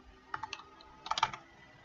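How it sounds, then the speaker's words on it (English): Two short bursts of typing on a computer keyboard while installing an IIS web server on a Windows Server virtual machine, crisp close keystrokes in quick clusters with a pause between, no talking. "I'm going to type in IS web server"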